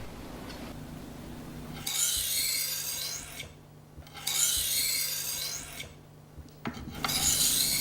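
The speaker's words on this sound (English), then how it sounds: "Resharpen the edge on the fine grit stone." Knife sharpened on a fine grit whetstone: three bursts of steady rasping strokes, close and fairly loud, separated by short pauses, with no talking.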